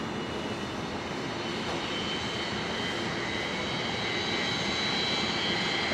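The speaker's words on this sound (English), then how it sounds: "there is the new livery Jetstar 321 Neo" Jetstar Airbus A321neo jet at Brisbane airport, its engines giving a steady, loud, broadband roar with a faint high whine that holds without break throughout.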